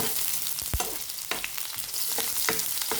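Corned beef and beans sautéing in a pan give off a steady, close sizzle, broken by a few sharp utensil clicks and stirring scrapes.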